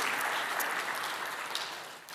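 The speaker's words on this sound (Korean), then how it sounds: "우리 한번 감사 박수 한번 올려드릴까요?" A Korean Baptist church congregation applauds during a Sunday service, a soft, distant wash of many hands clapping that fades slightly toward the end.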